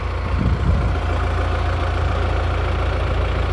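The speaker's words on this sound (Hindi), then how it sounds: "इंजन की नॉइस सुन पा रहे होगे आप," A Mahindra Thar SUV engine idles steadily with a low, even rumble and slight knocking, continuous and close, with no talking.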